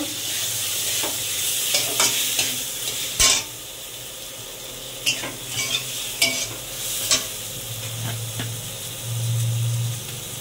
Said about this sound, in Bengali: এবারে এতে আমি বাগদাগুলো দিয়ে দেব, দিয়ে ভেজে নেব